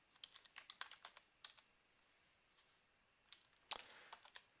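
A computer keyboard typed on in short, irregular bursts of light clicks, some quick runs and a few isolated keystrokes, close by and quiet, with no talking.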